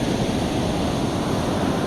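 Steady ocean surf rolls onto a beach, a continuous broad wash of breaking waves with wind rumbling across the microphone, loud and unbroken throughout.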